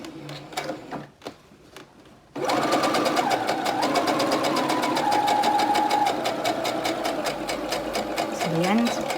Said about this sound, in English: I'm going to sew from here right down to this corner here.